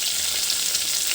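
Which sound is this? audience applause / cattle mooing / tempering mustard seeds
tempering mustard seeds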